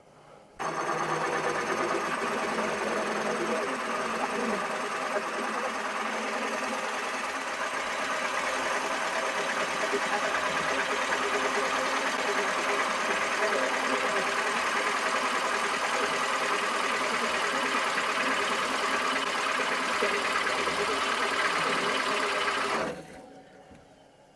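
A Laguna DP-20 drill press runs a cutter at around 600 RPM, producing a steady, loud motor hum and whine that holds for over twenty seconds before cutting off abruptly near the end.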